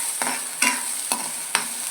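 Tomato, onion and garlic roast in a pan over a steady frying hiss, broken by four brisk scraping stirs spaced roughly half a second apart, with no voices.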